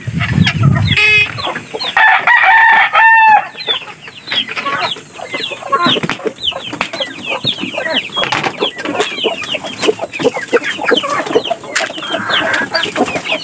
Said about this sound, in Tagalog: Papakainin ko rin po itong mga manok sa loob